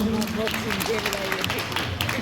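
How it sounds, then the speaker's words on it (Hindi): Steady applause from a crowd at an awards ceremony fills the whole moment, a dense wash of clapping with some voices mixed in. "जोरदार तालियां।"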